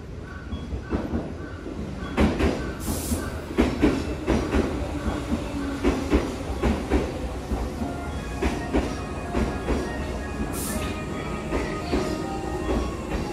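A Tobu Urban Park Line 8000 series train pulls out of Kasukabe station, wheels clicking over rail joints in a steady rhythm with rumbling motors and a couple of brief high squeals, close and moderately loud.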